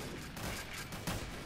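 Sniper tower in Roblox Tower Defense Simulator shooting amid a dense, continuous wash of game gunfire and explosions, steady and moderately loud with no clear separate shots.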